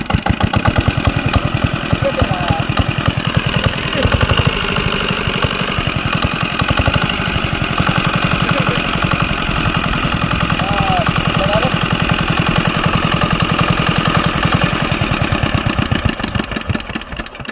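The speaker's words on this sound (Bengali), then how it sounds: "টেস্ট করে দেখছি মেশিন স্টার্ট হচ্ছে" A shallow irrigation pump engine runs loud and close at a steady idle throughout, with a continuous rhythmic chug and no pauses.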